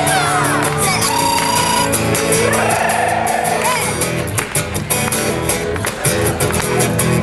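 Rally crowd at a Medicaid expansion event in Texas clapping, whooping and shouting together, a loud continuous roar with rhythmic claps and yells throughout, voices rising over the cheering.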